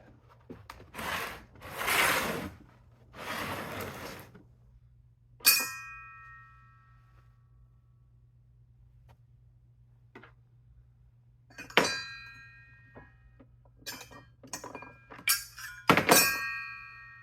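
Packaging for a SPYDER hole saw set is opened with crinkling rustles, followed by sharp metallic clinks and thunks of the saws being handled, spaced apart with quiet gaps between.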